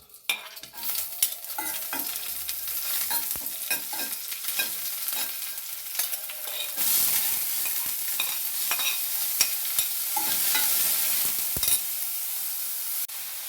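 Chopped onion, green chili and curry leaves frying in hot oil in a pan, a continuous close sizzle with stirring scrapes that grows fuller and louder halfway through, with no talking.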